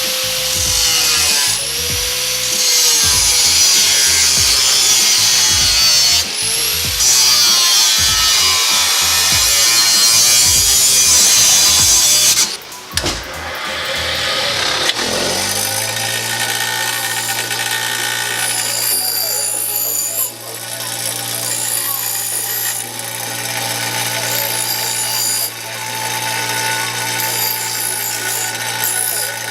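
Loud, continuous power-tool cutting of metal plates for a car wing mount, a harsh whining grind that runs for several seconds, breaks off, then gives way to a steadier lower machine hum with rain noise outdoors.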